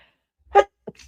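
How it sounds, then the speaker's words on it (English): A single sharp sneeze bursts out close by, followed by a brief sniff or breath, with quiet around it. "I feel like I'm going to sneeze."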